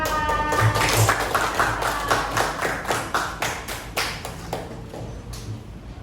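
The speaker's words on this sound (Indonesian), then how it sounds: "Ya, kita kasih aplaus untuk Mbak Akila dan Mbak Dita" Applause for two presenters during a teaching performance exam in a classroom: a run of sharp, scattered claps that thin out and fade over several seconds, with no talking.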